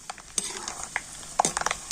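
Peanuts fry on low heat in a pan, a soft sizzle with light scraping stirs and a few small clinks, close and brief.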